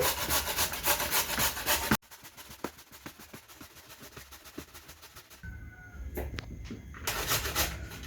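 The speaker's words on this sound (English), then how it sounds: "I am now going to grate the potatoes in here" Potatoes are grated for hash browns, giving close scraping rubs in bursts with a quieter stretch of scattered knocks and clicks in between before the grating picks up again.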